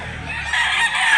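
A six-month-old young rooster being sold at a market in Mantalungon, Barili, Cebu crows once, loud and close, a brief hoarse rising call.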